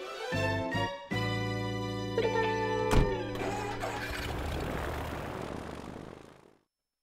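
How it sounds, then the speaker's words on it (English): A seaplane takes off in Animal Crossing New Horizons with a tonal, musical propeller engine sound that swells, then fades out to silence. "Time for takeoff."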